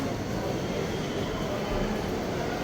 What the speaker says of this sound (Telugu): మెట్రో అయితే వచ్చేసింది